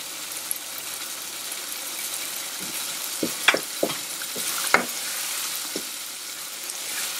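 Chopped garlic frying in tomato gravy oil gives a steady, close sizzle, broken by a handful of sharp spoon scrapes and clicks against the pan.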